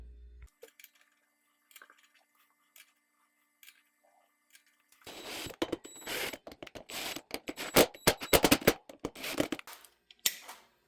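A torque wrench tightens the rear wheel bolts on a Harley-Davidson Sportster in a star pattern. After a quiet start, a close, dense run of sharp ratcheting clicks and metallic snaps follows.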